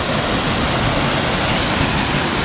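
Waterfall in Laos with water rushing over rocks, a loud, dense, unbroken roar that fills the whole moment at close range.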